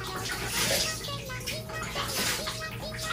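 Shower water splashes and runs steadily while a pomsky dog is being washed, a continuous close hiss with intermittent splashes, and people talk over it.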